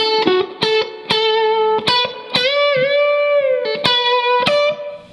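Played slowly on a distorted electric guitar, a guitar solo phrase unfolds in separate picked notes, bends and sustained singing tones with brief gaps between them, loud and up close.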